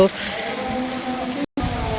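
Heavy rain during a storm in a village orchard in Kushtia, a dense steady roar of falling water close by, with a brief dropout near the end and a voice faintly underneath.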